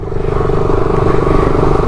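A motorcycle engine runs steadily at close range, a constant throaty drone with some rattling, no talking over it.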